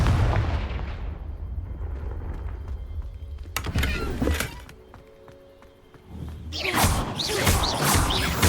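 Confringo explosive spell cast in Hogwarts Legacy: a low rumbling bed gives way to sharp, cracking blasts, then after a brief lull a loud burst of explosive impacts close by.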